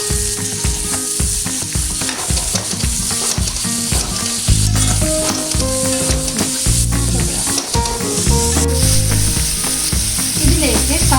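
Garlic and green chillies fry in a pan for a spinach and egg thoran. A loud, continuous sizzle runs throughout, overlaid by busy clattering and scraping as the pan is stirred.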